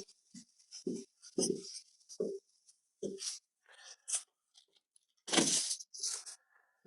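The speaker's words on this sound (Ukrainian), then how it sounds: "Зараз беремо звичайну, нашу фольгу." Ordinary aluminium foil crinkles and tears nearby in short, bright bursts, ending in a louder rip, as it is pulled off for wrapping Hutsul-style pork belly.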